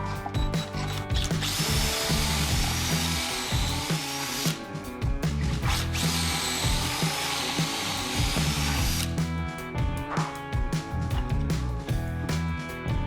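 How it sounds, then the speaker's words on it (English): A power drill bores pocket holes through the guide holes of a jig into timber, its bit fitted with a depth stop: loud whirring runs broken by brief pauses and rattling bursts as the bit cuts into the wood. "you're ready to drill through the guide holes here, and the depth stop will stop you going too deep."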